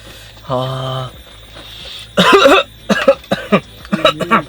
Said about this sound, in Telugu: మిడిల్ డాగ్కి రోగం వచ్చినట్టున్నది, దగ్గుతా ఉన్నది అప్పటి నుంచి